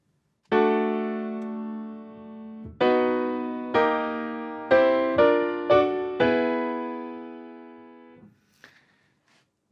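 Solo piano playing a sequence of sustained major chords with the right hand only, each struck cleanly and left to ring, with the last chord fading out.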